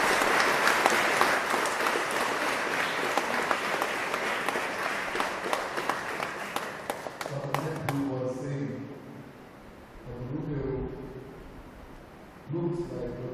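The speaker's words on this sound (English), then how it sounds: "I think they need a great clap." Audience applauding a choir at a memorial tribute concert: sustained, dense clapping that fades out midway, followed by a few voices talking.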